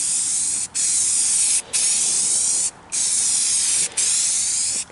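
An aerosol can sprays paint over a model railway display module in four long steady hissing bursts separated by brief breaks, loud and close, with no talking.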